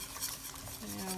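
A thickening coconut curry sauce is whisked in a small bowl, giving a steady close scraping and stirring sound with no pauses.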